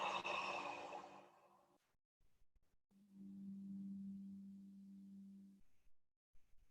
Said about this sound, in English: And then exhale.